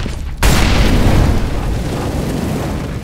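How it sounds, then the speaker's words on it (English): A flashbang grenade goes off in Counter-Strike: Global Offensive as a sudden loud blast followed by a dense, sustained roar and ringing that holds for a few seconds. "Deploying flashbang."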